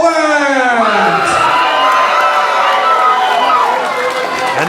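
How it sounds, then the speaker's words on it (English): A loud indie wrestling crowd roars and cheers steadily for a luchador-themed wrestler's ring entrance, with whoops and shouts layered throughout. "And that crowd reaction tells you all you need to know."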